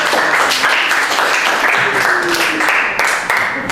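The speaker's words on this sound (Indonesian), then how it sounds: "beri aplaus untuk kita semua" A class of junior high students at SMPIA 1 applauds together, a dense, steady burst of clapping close by that holds its level for several seconds.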